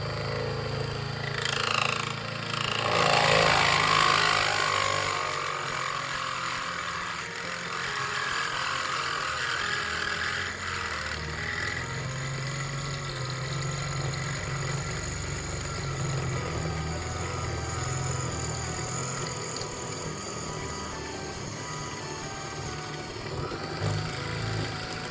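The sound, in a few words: drilling aluminum frame with hand drill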